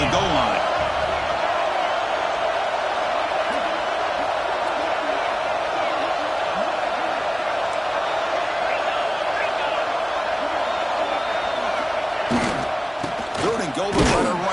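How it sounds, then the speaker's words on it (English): A stadium crowd in the NCAA 26 college football video game roars steadily near the goal line, a continuous wash of cheering with a commentator talking over it and a few thuds near the end. "the crowd really making some noise now, trying to help out this defense to get this stop near the goal line"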